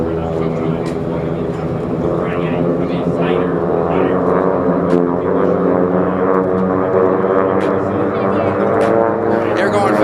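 AT-6 racing airplanes roar past at the Reno air races, a loud, steady droning propeller engine sound holding for ten seconds with an announcer talking over it.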